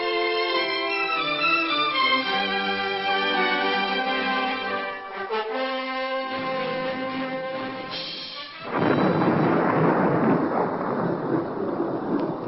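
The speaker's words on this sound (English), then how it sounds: "Looks like we're in for a bad storm." A thunderstorm sound effect in an aircraft-emergency radio drama: a deep, rolling thunder crash breaks in loud and near after a stretch of dramatic music and then keeps rumbling.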